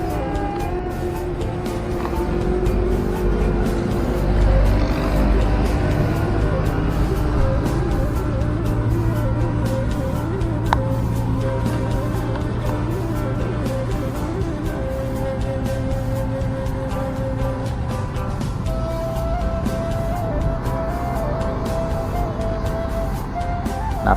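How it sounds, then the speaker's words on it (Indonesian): Steady holiday road traffic streams along the Padang–Bukittinggi road beneath the Padang toll flyover, a continuous mix of car and truck engines and passing vehicles heard from above, with no talk over it. "kita lihat penampakan arus lalu lintas jalan lintas Padang Bukit Tinggi di bawah jembatan layang atau flyover tol Padang Cincin"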